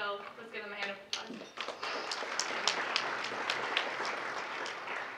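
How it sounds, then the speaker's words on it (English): Banquet audience at a CAIR-Arizona dinner breaking into applause, starting under a speaking voice with a few scattered claps and then swelling into steady, full clapping. "So let's give them a hand of applause."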